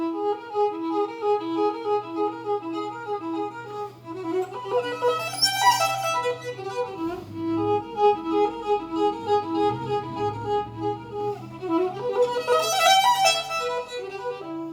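Violin playing a Ravel string quartet passage full of quick filigree-like figures and string crossings, with rapid shimmering runs that swell twice, played alone without talk.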